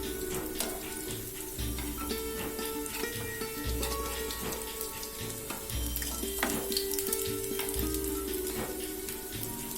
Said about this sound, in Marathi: आता आपण हे कटलेट पलटवून घेऊया जेणेकरून हे दोन्ही साईडनी छान असे गोल्डन ब्राऊन होतील.